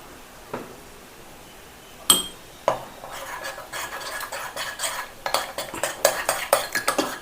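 Shampoo base being stirred in a bowl, with scattered clinks and scraping strokes that speed into a busy, irregular rhythm of light taps and rubs, close and fairly quiet, with no voices.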